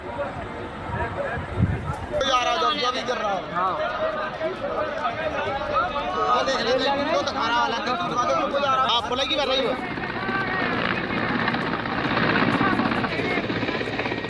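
A helicopter's rotor chops and whirs steadily throughout during a flood rescue in Madhya Pradesh while people talk over it, with a louder, busier stretch in the middle.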